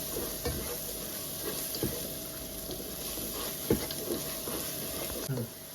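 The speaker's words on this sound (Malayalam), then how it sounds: "ഡ്രൈ ആക്കിയിട്ട് ഇളക്കണ ഇങ്ങനെ കണ്ടിന്യൂസ് ഇങ്ങനെ ഇളക്കിക്കൊണ്ടിരിക്കണം" Pork curry with onions frying in a pan and stirred continuously, a constant close sizzle broken by occasional scrapes and knocks of the spoon.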